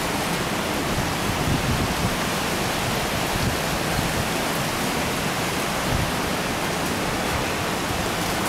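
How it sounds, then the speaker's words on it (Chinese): Heavy typhoon wind and rain in Chiayi, Taiwan, a dense, unbroken roar of driving rain and gusts that holds loud and steady throughout, with no voices. "今天的风大雨大"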